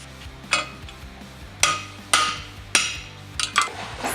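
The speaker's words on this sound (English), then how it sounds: "Cut 4 or 5 of the spot welds off and give it a good hit." A steel trailer hitch being struck to break its spot welds free during a rear tube bumper install: about six sharp metallic hammer blows at uneven intervals, close and ringing briefly over a low background hum.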